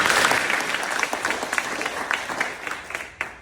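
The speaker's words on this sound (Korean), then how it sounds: "우리 한번 서로 격려하는 박수를 부탁합니다." A crowd breaks into applause, many hands clapping together in a dense, steady patter that gradually thins toward the end.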